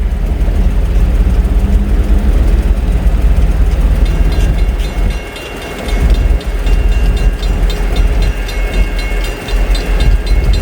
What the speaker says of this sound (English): We got another train coming.